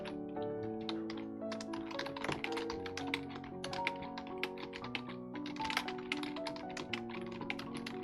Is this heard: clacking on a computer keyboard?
yes